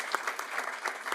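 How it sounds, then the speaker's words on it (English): Applause from an indoor conference audience at a closing session, a steady wash of many hands clapping with small peaks, moderately loud throughout and no talking over it. "when we give them applause right now"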